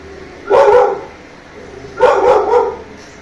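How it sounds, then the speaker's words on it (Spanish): A dog barks in two short bursts about a second and a half apart, close and loud, with quiet room tone between and no talking. "mi perro, Shadow, otra vez."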